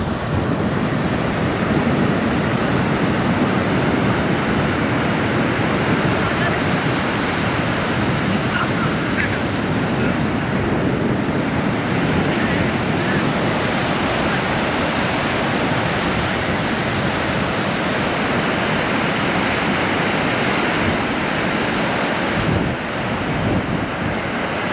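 Steady ocean surf rolls onto My Khe Beach in Da Nang, a continuous loud wash of breaking waves with wind buffeting the microphone throughout, no voices heard.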